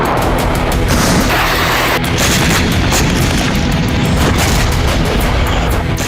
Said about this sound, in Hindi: रूस ने सुत्जा पर भी बमबारी शुरू कर दी है